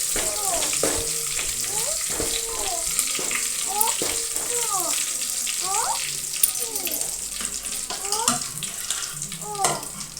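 Dill leaves hit a hot tempering for sambar with a steady close sizzle and hiss, punctuated by a few sharper crackles as the greens are stirred in.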